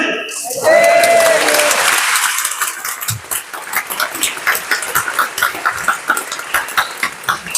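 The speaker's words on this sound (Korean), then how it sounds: "박수!" Crowd at an emergency national prayer meeting breaks into applause after a call to clap, a dense wash of hands that settles into rhythmic, pulsing clapping in unison, with voices and a brief cry mixed in.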